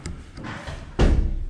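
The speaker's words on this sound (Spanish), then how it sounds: "Déjame cierro la puerta" A door swings shut at a Tulum construction site, a short shuffle followed by one solid close, near and fairly loud against a steady background.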